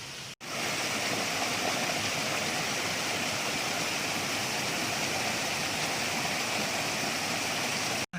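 Steady, dense rush of flowing water from a forest stream running continuously with no pauses.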